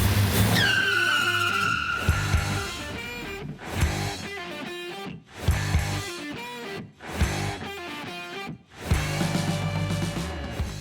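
A car pulls away with a sharp tire squeal at the start, the screech soon giving way to loud rhythmic music that runs through the rest of the clip.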